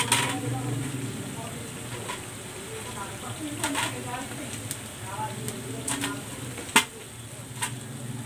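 Chicken sisig lumpia sizzle in hot oil as they are lifted out, a steady close frying crackle punctuated by utensil clinks and one sharp knock, with a person talking over it.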